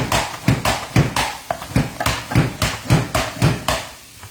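Food is sliced on a mandoline slicer with a food pusher, making a quick series of sharp, evenly spaced chopping clacks, about two per second, close and fairly loud with no voices.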